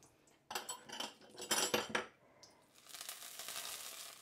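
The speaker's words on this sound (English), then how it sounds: "we're literally just going to put the noodles in and turn them round. You can hear it." Noodles dropped into a hot pan and turned, giving close, loud bursts of sizzling, scraping and clattering, then settling into a steadier crackling fizz toward the end.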